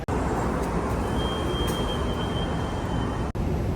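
A Vancouver SkyTrain rolls along with a steady loud rumble and hiss, a thin squeal of wheels holding in the middle, and a brief dropout near the end.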